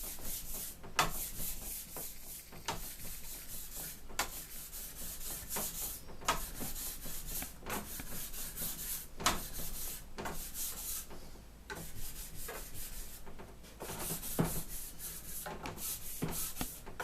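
A steel trowel scrapes and rubs metallic plaster across a wall in a steady back-and-forth rhythm, with short strokes and sharper swipes repeating close up and fairly quiet.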